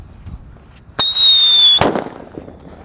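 A Happy Power 3 firework goes off nearby with a loud, shrill whistle of almost a second, ending in a sharp bang, then fades into quiet outdoor background.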